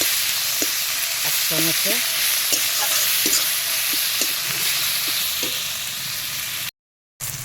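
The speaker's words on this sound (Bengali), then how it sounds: "এবার এই মশলাটা ভালো করে আমি কষে নেব।" A spice mix with tomato, onion and garlic frying in a pan, with a steady close sizzle and a run of regular spoon-stirring scrapes and knocks. A voice speaks briefly.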